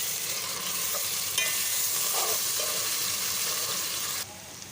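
Ginger garlic paste sizzles loudly in hot oil as it is stirred in a pan for a bhindi gosht salan, a constant close frying hiss broken by occasional scrapes of the spoon.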